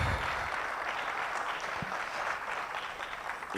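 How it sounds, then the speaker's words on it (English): Audience applause at the opening ceremony of the Kenya Space Expo & Conference 2024, a steady continuous wash of clapping from a crowd that holds evenly throughout, with no talking over it. "A rousing round of applause for Ambassador Thigo."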